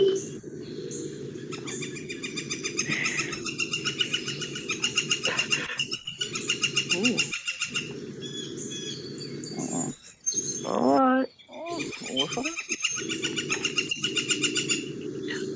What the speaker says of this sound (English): can you play that song of the Northern Flicker?